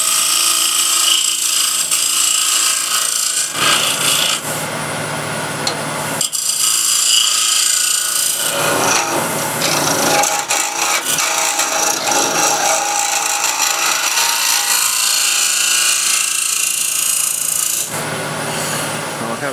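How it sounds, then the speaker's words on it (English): A 25mm wide asymmetric curve scraper rasps continuously against wood, close and loud, in long strokes with brief pauses between passes. "25mm wide asymmetric curve scraper."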